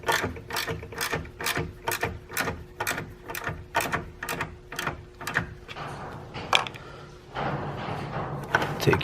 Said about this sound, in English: Take your ratchet again and just make it snug.